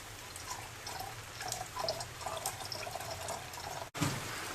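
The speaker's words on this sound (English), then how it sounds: "now I'm going to take our used solution and pour it off here" Used gold extraction solution poured from a jug into a container during gold recovery from old electronics: a steady close liquid pour and trickle, ending in a brief break followed by a splash.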